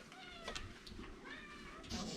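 A pet cat meows in a kitchen beside an antique wood cookstove while cod is being prepared, a few short mewing calls over a soft background hum.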